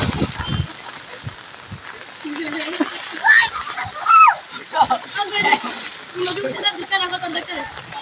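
A child dives and splashes in a small rooftop pond, with sloshing water and bursts of splashing under frequent talking and a voice nearby.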